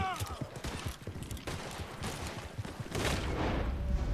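Rapid bursts of gunfire in the video game Red Dead Redemption 2, with scattered shots and volleys crackling through the whole stretch under someone talking over the gameplay.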